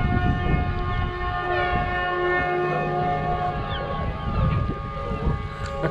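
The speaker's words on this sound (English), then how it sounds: "My very old foghorn, done one little blast and then sort of not much else." An old foghorn on a catamaran sounds a loud, close, tonal blast with a rich harmonic drone that wavers and sags as it runs on for several seconds.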